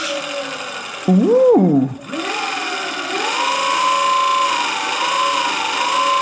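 Electric scooter hub motor, run sensorless, whirs up under throttle with a rising then falling electric whine, then settles into a steady humming spin; a brief exclamation of surprise is heard.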